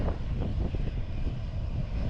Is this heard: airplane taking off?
yes